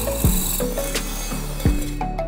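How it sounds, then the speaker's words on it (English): A power drill bores a hole through the bottom of an old pot, with the motor whirring steadily and two short bursts of grinding as the bit bites into the metal, loud and close with no voices. "then I drill a hole in the bottom of the pot"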